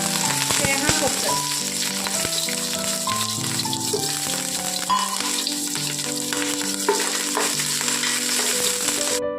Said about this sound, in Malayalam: നമ്മുടെ തേങ്ങാക്കൊത്ത് മൂപ്പിച്ചെടുത്തിട്ടുണ്ട്